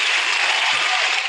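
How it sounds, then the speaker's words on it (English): Recorded applause plays from a phone speaker during a university lecture, a thin, hissy wash of clapping that is steady and fairly loud without distinct individual claps. "Normally you would get an applause, but somehow I got it on my phone"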